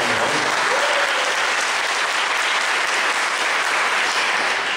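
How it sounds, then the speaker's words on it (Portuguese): A congregation at a Catholic prayer group gives a dense, sustained round of applause, many hands clapping loudly and evenly for the full five seconds. "Pode dar uma salva de palmas."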